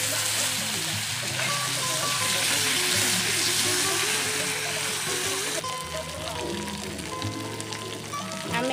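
Potatoes going into hot oil for a potato and Malabar spinach curry, a loud, continuous crackling sizzle that shifts and settles partway through, close up with no talk.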